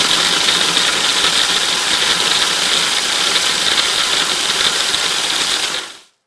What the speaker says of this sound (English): we're going to put this lid on, and we're going to grind the Oreos up